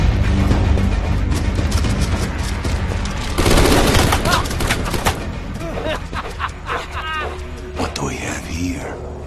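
Loud, dense gunfire in Call of Duty Black Ops 4, with sustained rapid bursts and heavy booms, then scattered shots that thin out toward the end while voices talk over the fighting.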